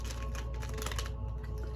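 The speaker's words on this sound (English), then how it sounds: "Okay, let me shuffle these." Tarot cards being shuffled by hand, a steady dense riffling and flicking of card stock that runs continuously and fairly close, with no talking over it.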